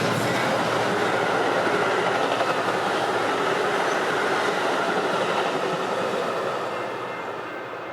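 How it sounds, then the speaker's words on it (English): Westbound Metra 1215, an express commuter train, rushes past in a loud, continuous rumble of wheels on rails that fades slightly in the last second, with no voices. "First train of the morning would be westbound Metra 1215, an express train obvious by their speed and strict schedule to keep"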